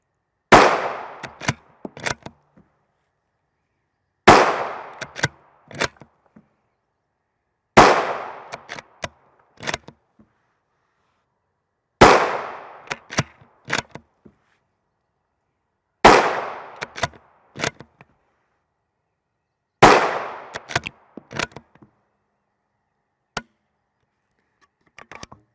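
Six loud, sharp rifle shots from 5.56x45mm ADI M855 62-grain FMJ ammunition, fired outdoors at a 100-yard range, spaced roughly four seconds apart, each with a quick echoing tail followed by faint mechanical clicks.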